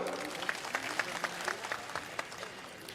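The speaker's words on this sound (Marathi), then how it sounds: "सर्वांनी पहिल्यांदा अजित भाऊंसाठी एकदा टाळ्या वाजवाव्यात" Crowd clapping at an election campaign rally in Chikhali village, Bhosari, cheering for Ajit: dense, steady applause with sharp individual claps rising and falling, fairly close, for the full three seconds.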